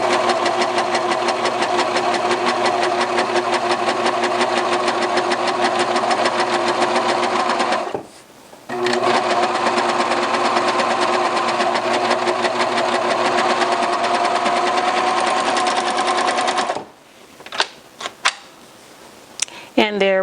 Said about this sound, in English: So I'm just going to serge this